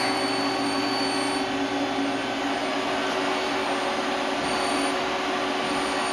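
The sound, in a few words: Citizen M20 CNC Swiss lathe running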